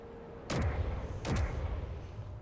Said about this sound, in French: quatrième explosion pour le Dédale